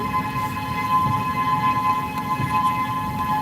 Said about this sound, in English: we hear tornado sirens going off right now